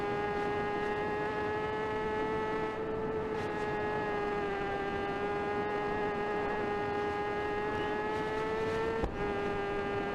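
A supersport motorcycle at full throttle in the TT Isle of Man 3 racing game gives a loud, sustained high-revving drone that holds an almost constant pitch, with one brief dip near the end.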